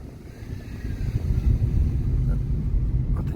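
A car engine rumbles low and steady as the driver changes gears on a coastal road near Sao Mateus on Pico Island in the Azores. The engine note swells midway, with wind buffeting the microphone. A voice speaks faintly underneath.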